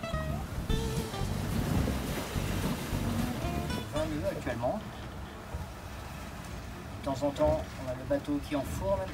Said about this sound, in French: Qui enfourne un petit peu à l'avant sur une vague un petit peu plus haute comme là par exemple